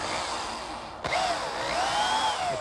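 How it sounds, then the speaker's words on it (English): A power drill fitted with a self-centering bit bores a pilot hole for a hinge screw, its motor rising into a loud, steady whine whose pitch climbs and wavers as the bit bites into the wood. "the drill bit comes out and drills a pilot hole"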